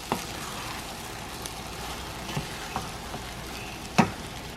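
Six eggs scrambling with Spam in a pan, a steady soft sizzle with a few light clicks and taps of a utensil, one sharper knock near the end.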